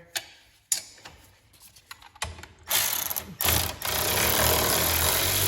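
Bolts on a John Deere transmission are loosened with a ratchet, heard as close clicking and clacking with metal knocks that build into a loud, continuous harsh noise toward the end.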